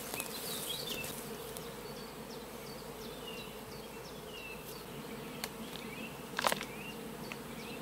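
Honeybees buzz steadily around a beehive outdoors in the sun, returning from an acacia honeyflow, a dense continuous hum with individual bees darting past, fairly close and alone without talk.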